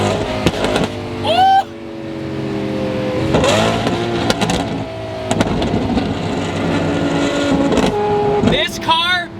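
A straight-piped Lamborghini Aventador SVJ V12 revs hard near a wall, with sharp rising blips and a sustained loud snarling drone between them, recorded close up.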